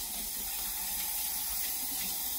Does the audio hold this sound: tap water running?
yes